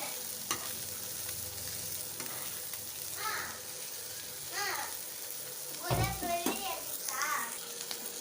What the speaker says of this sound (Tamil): ஃப்ரை பண்ணுறேன்.